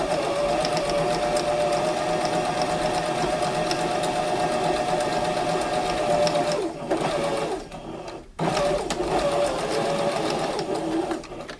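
A sewing machine stitches a pleated fabric mask in a steady, loud, continuous whirr of rapid needle strokes, stopping briefly about two-thirds through before resuming.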